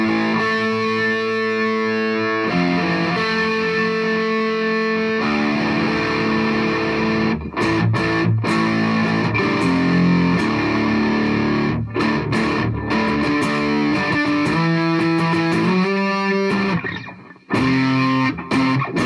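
An electric guitar played through a fuzz pedal routed by a Joyo PXL Pro effects looper rings out as thick, saturated chords and riffs, loud and sustained for most of the passage.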